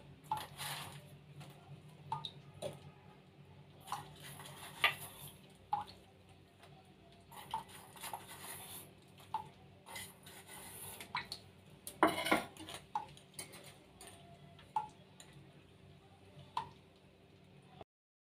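Pieces of patali jaggery go into a pan of milk while making dudhpuli pitha: scattered light clinks, taps and small knocks against the pan, faint and close, with a busier cluster of clatter near the middle.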